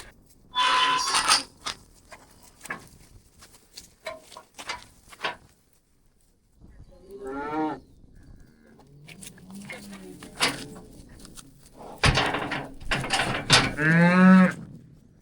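Cows moo in several drawn-out calls, some near and loud, at a cattle ranch where cows and calves are being sorted. Sparse knocks and shuffling noises fall between the calls, and people talk at times.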